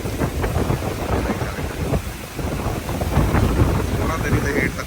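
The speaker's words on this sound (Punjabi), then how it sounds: "ਇਦਾਂ ਮੀਂਹ ਦਾ ਧੂਆਂ ਬਣ ਜਾ ਰਿਹਾ ਪਾਣੀ ਦਾ" Heavy rain driven by strong gusting wind sweeps across a farm with a capsicum seedling nursery, loud wind buffeting and roaring over the microphone with a surging, uneven rush that swells and dips.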